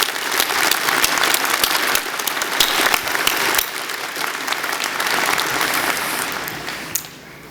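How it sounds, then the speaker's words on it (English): Large audience applauding at a university convocation ceremony, a full sustained roar of clapping that holds steady, then thins and fades near the end. "Let's give them both a big round of applause."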